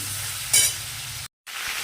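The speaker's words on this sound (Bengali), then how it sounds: "এর ভেতর কেটে রাখা পেঁয়াজ রসুনগুলো আমি দিয়ে দিলাম একটু ভাজা ভাজা হোক" Chopped onion and garlic frying in a pan, a steady broadband sizzle with a brief louder burst of crackle midway and a momentary dropout before the frying resumes.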